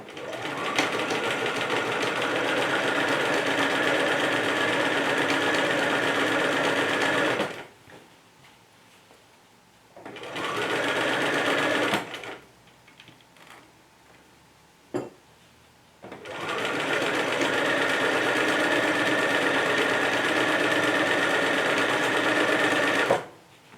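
A sewing machine stitches a Valentine's Day bag, whirring steadily in long close runs that stop for pauses filled with faint handling clicks and a brief thump before the sewing starts again.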